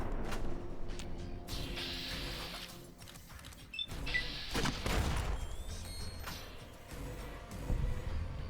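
Bursts of gunfire from the Fallout: New Vegas Lonesome Road DLC, several rapid volleys of shots spread across the stretch, loud and up close over steady game background noise.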